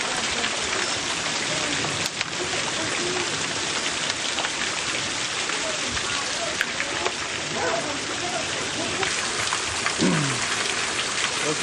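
A hail storm with heavy rain and wind gusts pours down in a dense, steady roar, with occasional sharper impacts and faint voices underneath.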